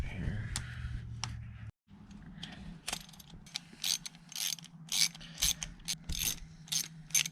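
Metal bolt being fitted and tightened on an LTR450 ATV, heard as a string of close, sharp ratcheting clicks and mechanical clinks with short pauses, over a low steady hum in a workshop.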